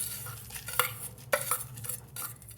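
A spoon stirs jaggery into tamarind water in a pot, giving soft scraping swirls broken by a few sharp clinks of metal against the vessel, close and fairly quiet with no talking.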